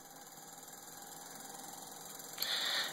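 Electric motors spin an RGB LED gyroscope prototype with a faint, steady whirring hum and high whine, then a sudden brighter hiss of motion near the end, with no talk.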